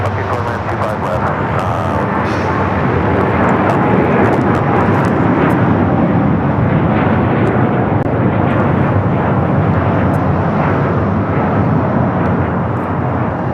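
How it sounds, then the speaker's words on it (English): A United Airlines Boeing 787-9 Dreamliner taking off from LAX, its engines a loud, steady, broadband roar that holds without letup throughout, with a voice talking faintly underneath. "This is United Airlines 198 taking off to Shanghai on the 787-9 Dreamliner."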